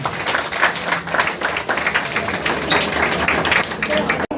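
An audience at a women's association anniversary event applauding loudly, dense continuous clapping from a crowd close by, ending abruptly.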